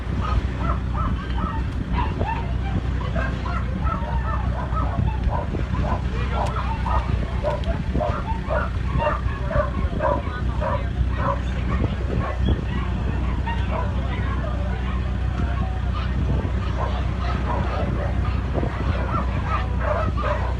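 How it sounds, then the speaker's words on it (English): Rescued puppies arriving from Puerto Rico bark, yip and whimper nonstop in a busy, echoing crowd of dogs, many voices overlapping at once with no pause. "Let's check out these puppies that are coming."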